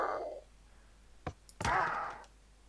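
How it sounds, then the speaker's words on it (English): Minecraft parrot death sound from the 1.12 snapshot, a brief click and thump followed by a bright, squawking chirp lasting about half a second, close and alone. "Then we have the deaf sound."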